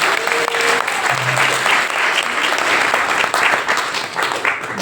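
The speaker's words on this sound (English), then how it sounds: "Give Iliana a round of applause" Sustained applause from a crowd fills the room, steady and fairly loud throughout with no pauses.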